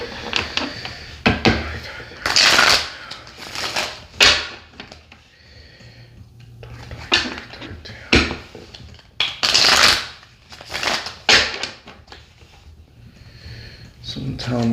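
Tarot cards are shuffled close by in short, repeated riffling bursts during a reading. A person talks throughout, and sniffs and small handling noises sit between the shuffles.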